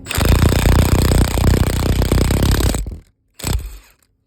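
Impact wrench driving a wheel stud on a Polaris Pro XD hub, a loud, close, rapid hammering rattle lasting about three seconds, then a brief second burst after a short pause.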